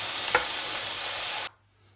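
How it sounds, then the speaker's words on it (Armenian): Meat pieces fry in a pan with a steady, bright sizzle. A brief stir scrapes partway through, and the sizzling cuts off abruptly after about a second and a half. "այստեղ ամբողջ մսակտորները տապակելուց հետո հիմա տապակելու ենք սունկը"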